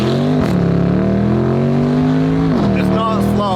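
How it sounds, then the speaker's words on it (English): A heavy Bentley accelerates hard in a close, loud engine pull whose pitch climbs steadily and then drops at a gear change before rising again, with voices underneath. "Cool, Bentley pull."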